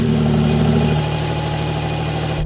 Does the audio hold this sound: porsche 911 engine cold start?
yes